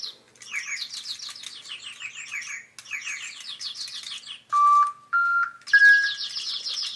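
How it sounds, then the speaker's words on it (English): DigiChicks toy birds in choir mode chirp together in rapid repeated electronic trills, close and steady, broken near the end by a few sharp pure whistle-like tones. "Alyssa's going to put the birds all on choir mode so they can sing together."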